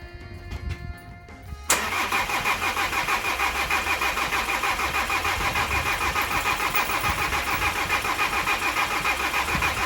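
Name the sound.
Volkswagen Crafter diesel engine cranking and starting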